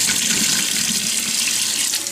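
A faucet runs warm water steadily into wine bottles being rinsed for home winemaking, a loud, constant gushing splash with no talk over it.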